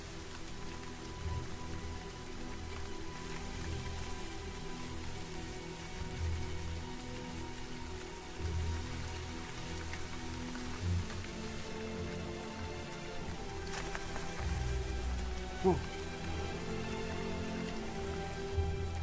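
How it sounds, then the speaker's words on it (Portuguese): Steady rain falls through a forest where chimpanzees live, a dense, even patter of drops on leaves continuing throughout, with a low thump or two of faint distant thunder. "Para o bando de Fred, a chuva não é tão bem-vinda."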